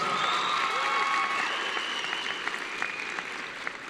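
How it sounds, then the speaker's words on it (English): A high school commencement crowd claps for graduates' families in a sustained wash of applause, dense and moderately loud, tapering slightly toward the end. "Let's give them a round of applause."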